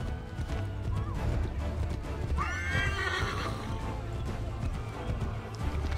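A horse in the video game Assassin's Creed 3 gallops with rapid hoof clatter and lets out a loud whinny midway, all over a continuous low rumble of in-game ambience.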